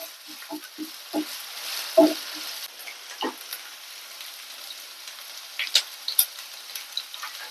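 Garlic, ginger and green chilli paste frying in a pan gives a soft sizzle, broken by scattered stirring scrapes and taps from a spoon, with no talking.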